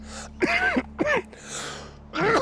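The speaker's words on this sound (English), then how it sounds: "There I go, coughing away" A person coughs and clears their throat in a few short, close bursts separated by brief pauses, fairly loud against a quiet room.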